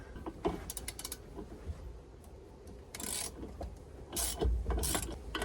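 Socket wrench ratcheting and rasping against the steering cable nut on an outboard boat, a nut in place since 1988, with bursts of metallic clicking and grinding scattered unevenly through the outdoor work.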